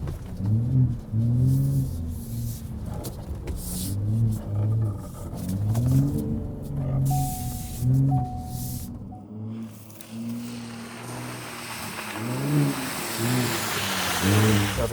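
A 2022 Ford Raptor truck driving on a trail, its engine rising and falling in repeated low revving surges with a brief electronic chime partway through, close and unaccompanied by talk.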